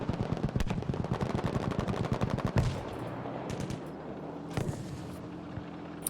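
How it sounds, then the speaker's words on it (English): Battlefield 5 gunfire during a competitive Frontlines match, a fast burst of rapid automatic shots for about two and a half seconds, then scattered distant shots and rumble over a quieter battlefield. "But he's taking shots from BKD."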